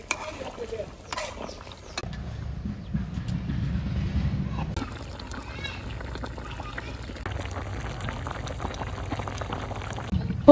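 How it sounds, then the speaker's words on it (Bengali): Water bubbles at a rolling boil in a pot for a village-style poa fish and whole cauliflower curry, a steady low churning that lasts throughout, with louder clatters early on and faint background sounds. "জল উতলাই গেছে, আর মাছ দিয়ে দিমু।"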